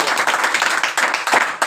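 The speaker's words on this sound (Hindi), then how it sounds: "जोरदार ताली बजाइए।" Students in a Class 9 maths lesson clap together at the teacher's urging, a dense, steady patter of many hands filling the short stretch with no talk over it.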